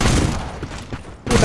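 Gunfire from a shotgun in the online shooter Black Squad, loud and dense with a burst of blasts at the start and another at the end, separated by a quieter stretch.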